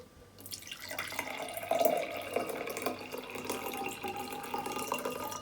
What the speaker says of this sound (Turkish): Şimdi elinizdeki suyu yavaşça bardağa dökmeye başlayın.